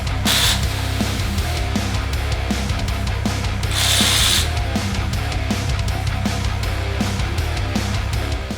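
A hand ratchet works loose a car's starter bolt with steady rapid clicking and scraping under a constant low mechanical hum, plus two brief louder hissing bursts, close up and with no talking.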